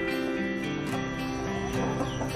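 Chickens cluck in short, overlapping bursts outside a farmhouse front door against steady outdoor background noise, close by and continuous throughout.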